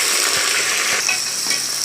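Onions sautéing in oil with green chillies and spices for country-chicken biryani, a loud, continuous close sizzle with faint stirring scrapes, no talk.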